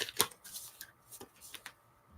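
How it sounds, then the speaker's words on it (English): Tarot cards are shuffled in quick, soft riffles and flicks, close by and quiet, with no one speaking. "One more shuffle."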